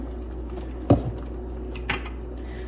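Cream is poured into a pot of lasagna soup, giving two short, soft liquid splashes about a second apart over a quiet kitchen hum.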